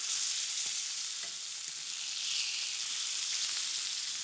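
Red mullet fish sizzling in a hot frying pan with the heat turned off, a steady, even frying hiss throughout with faint crackles and small pops, close and alone without talk.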